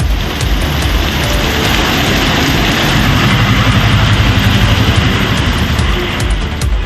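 Heavy evening rain pours steadily and loudly on surfaces in a dense, continuous hiss with a low engine-like rumble underneath.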